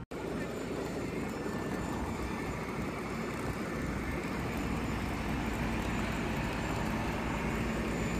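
Inside an airplane cabin, the engines produce a steady, even roar that fills the space continuously for the whole stretch with no breaks.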